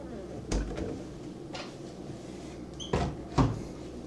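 A small beverage cooler door in a Little Mermaid standard hotel room at Disney's Art of Animation Resort thumps open and shut several times, with soft knocks and clunks close by in a quiet room.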